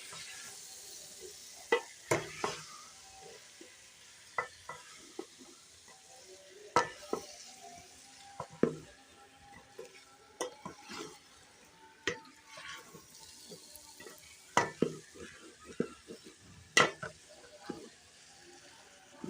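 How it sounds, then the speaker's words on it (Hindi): Potatoes and cluster beans fry in spices in a pan with a soft, continuous low sizzle, punctuated by frequent sharp scrapes and clinks of a spoon stirring against the pan. "आलू और गुआर फली को भून लेंगे। अच्छी तरह से मसाले में मिक्स कर लेंगे।"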